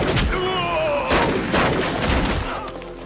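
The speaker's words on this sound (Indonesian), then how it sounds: "Kembali terjadi tembak-menembak." A gunfight in a western cowboy film, several loud sharp shots and booming reports ringing out close amid music and a busy soundtrack.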